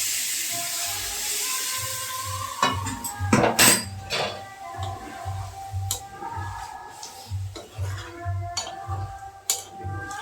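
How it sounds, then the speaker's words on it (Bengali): Hot water poured into a pan of potato and kohlrabi curry, its spices fried until the oil separates, giving a brief hissing splash and steam sizzle among soft clinks of utensils against the pan. "আমি এটা গরম জল দিচ্ছি।"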